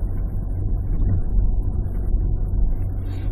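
Hyundai iX35 cruising in third gear at about 24 mph, a steady low engine and road rumble filling the cabin with even loudness from start to finish, no voices.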